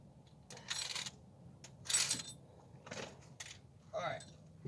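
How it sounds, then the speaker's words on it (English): A wrench drops and clatters during a cold air intake installation on a car, giving a few sharp metallic clinks and a short rattle at moderate loudness, with a voice nearby. "Don't you love it when you drop a wrench?"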